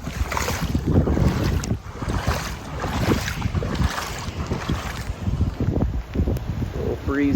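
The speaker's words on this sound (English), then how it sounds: "Breezy out there." Strong wind buffeting the microphone beside open water after a tropical storm, a loud continuous gusty roar with rustling and a shaking dock, sustained throughout.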